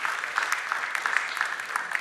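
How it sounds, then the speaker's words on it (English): Scattered clapping from a crowd continues steadily, a soft patter of many hands at moderate distance. "With a round of applause, let's welcome"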